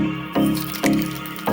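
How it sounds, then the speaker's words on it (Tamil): Mustard seeds dropped into hot oil in a pan for a Tamil fennel poriyal, giving a close, steady sizzle with a few sharper bursts of crackle as the seeds hit and start to pop. "கடுகு போட்டுக்கணும்."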